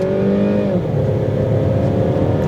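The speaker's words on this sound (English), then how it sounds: "The transmission does rev match, which is nice" 2010 Saab 9-5 sedan engine revving as the automatic transmission rev-matches on a downshift, a steady close-up drone with the pitch dipping and rising again.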